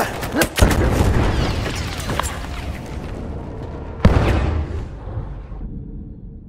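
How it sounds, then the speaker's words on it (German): A grenade explodes in a wartime battle scene, a heavy boom followed by rumbling gunfire, then a second sharp blast near the end that fades into a long trailing decay. "Granate raus!"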